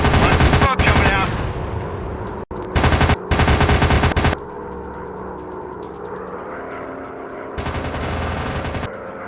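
Loud bursts of machine-gun fire from an enemy fighter plane in an air-combat flight simulator game, coming in several sharp rattling volleys separated by quieter engine drone.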